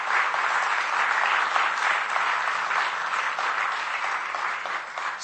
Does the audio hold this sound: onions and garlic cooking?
no